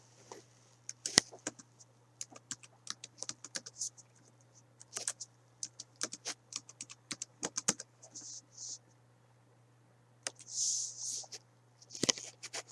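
Computer keyboard keys tapped to enter a password during a Fedora Linux install: quiet, irregular clicks in short bursts with pauses, close by, and a few louder clustered clatters near the end.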